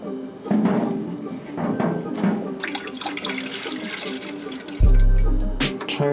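Tap water runs steadily into a container being filled for tie-dyeing skateboard wheels, with a louder gush and splash toward the end and some handling knocks, close and with no talk.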